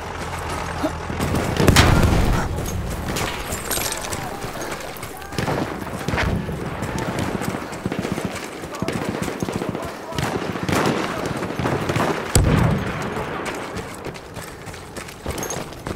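Horse hooves gallop in the Battlefield 1 open beta, a World War I shooter, set against heavy gunfire, booming artillery and machine-gun bursts. The sound stays loud and chaotic throughout, with voices faintly present.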